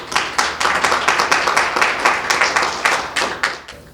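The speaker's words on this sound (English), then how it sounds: "Please, let's give our guest speakers a round of applause." Applause for guest speakers at an event on Armenian and LGBTQ issues, a steady patter of clapping hands from a modest crowd that fades out near the end.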